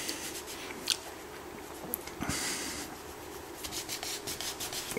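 Soft rubbing and light scraping as a surface is wiped by hand with a solvent wipe to remove indexing marks on a Kubota BX25D tractor, quiet strokes with a few sharper scuffs, close by.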